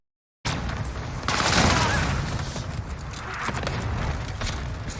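Cluster strike explosions in a Call of Duty match erupt as a dense, rumbling barrage of blasts and crackling booms, loud and continuous over several seconds after a sudden start, with no voices.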